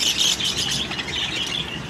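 Budgerigars (parakeets), including clear-wing and spangle birds, squawk and chatter continuously in a close, busy flock with no one talking.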